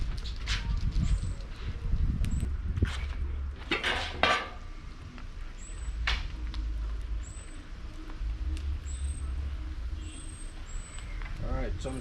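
Whelks cook with butter in a hot pan, giving a close, low sizzle under clattering pans and utensil scrapes, with a few sharp knocks and faint birdsong in the background.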